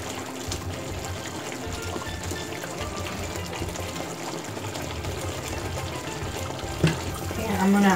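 Water pours into a cooking pan holding pork chops, a soft steady trickle that runs for several seconds over background noise and ends with a brief louder splash.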